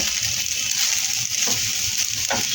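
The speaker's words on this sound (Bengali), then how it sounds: "আবারও অল্প একটুখানি গুঁড়ো চিনি দেবো এটাকে ভালো করে মিশিয়ে নেব" Soybean biryani in a pan is stirred as powdered sugar is mixed in, giving a steady soft sizzle with a few scraping strokes of the spoon.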